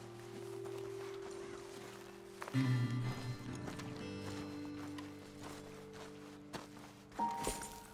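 Horses walk along a ledge above a road in Red Dead Redemption 2, soft hoof clops and footsteps sitting under steady game music, with a brief bump and a louder hit near the end.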